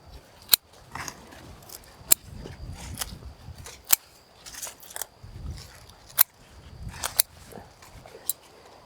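Sharp snipping cuts as shears trim the lower stalk growth off a tall native sunflower, about eight crisp clicks at irregular intervals outdoors, with rustling of leaves between them.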